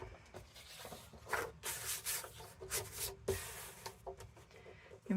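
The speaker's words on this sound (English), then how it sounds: "I just need to trim up these pages, so let's bring in my" Paper trimmer slicing through vintage book pages, a series of quiet scraping, rubbing strokes with small clicks, close and faint.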